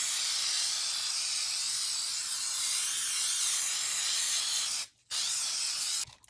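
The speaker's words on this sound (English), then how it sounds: "I'm using Krylon spray adhesive" Krylon spray adhesive hisses steadily from a can onto papers, a loud continuous spray that cuts out briefly twice near the end.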